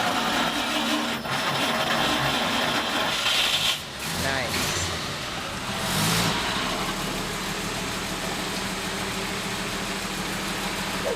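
A car engine grinds and churns with a rough, labored whir as a slow, growling starter turns it over hard, a brief dip then a surge as it catches and runs, with a short spoken word.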